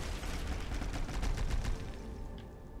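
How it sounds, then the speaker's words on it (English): Rapid burst of explosions in the video game Skyrim, a dense crackling volley of blasts over the first two seconds that then fades away. "Wow, those all exploded."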